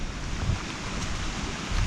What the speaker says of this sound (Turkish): Şelale güzel.